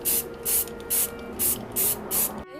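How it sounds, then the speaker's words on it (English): Clear gloss coat sprayed from a can onto sanded wood, six sharp hissing bursts in a steady rhythm, close and loud, with short quiet gaps between them. "now I'm gonna spray it with this clear gloss coat"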